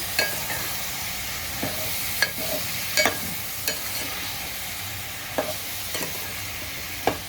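Food being stirred in a frying pan, with a steady sizzle and spatula scrapes and knocks spaced every second or so, close by and with no talking.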